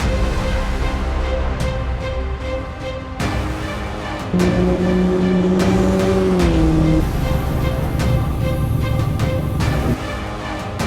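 Dacia Logan race cars run on a racing circuit, engines roaring loud and close with rising and falling revs, gear changes and passing sweeps, a sustained tonal whine surfacing midway.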